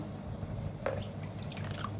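Brine of water, salt, sugar and vinegar poured into a jar packed with rolled grape leaves, giving soft, close trickling and dripping over a low, steady background hiss.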